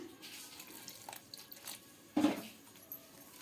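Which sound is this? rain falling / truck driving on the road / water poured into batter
water poured into batter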